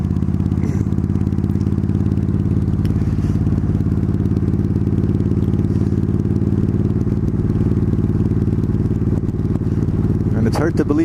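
A cruiser motorcycle engine drones steadily and loudly throughout, a low continuous rumble with wind buffeting, ridden in traffic behind a Fiat.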